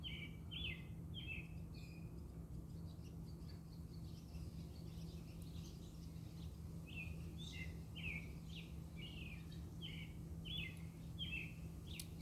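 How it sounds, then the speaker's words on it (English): Faint birds chirp outdoors in a backyard, repeating quick bursts of tweets in two clusters over a steady low hum of wind and background noise. "Just listen to the sounds of nature, the birds chirping, the wind blowing in the trees."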